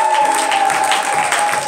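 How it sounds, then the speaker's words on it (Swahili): A church congregation claps for Jesus during a Pentecostal (FPCT) service in Maganzo, Shinyanga, a dense steady roar of hands that fills the room continuously from start to end, with a faint sustained tone running underneath. "Pigia Yesu makofi."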